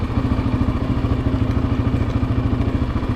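Raptor 700 four-wheeler engine running steadily on a mountain trail in the Appalachians, a loud, close, rhythmic low-pitched putter with clattering pulses that holds constant throughout.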